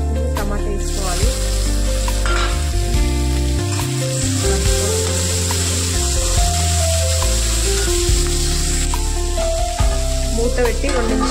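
Onions and tomato frying in a pan while being stirred, a loud continuous sizzle with scraping and stirring knocks, no talking.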